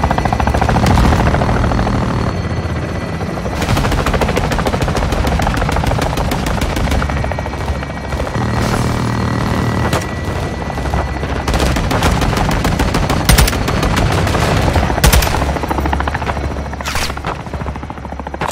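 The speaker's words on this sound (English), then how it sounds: "Weapons hot for gun run." A helicopter gun run in Call of Duty Modern Warfare II: a steady, loud rotor drone throughout, overlaid by repeated long bursts of heavy machine-gun fire and sharp impacts.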